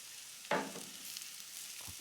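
Onions with crushed garlic hit a hot pan for ratatouille, giving a brief soft sizzle and stirring scrape over a quiet frying hiss.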